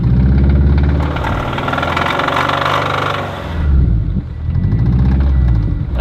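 A Corvette engine fitted with saw-blade wheels roars loudly up close on a frozen lake, revving and straining in long surges, then dipping and climbing again, with a rough mechanical rattle.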